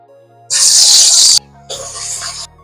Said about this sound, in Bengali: তেলও গরম হয়ে গেছে এবার মাছগুলো দিয়ে দেবো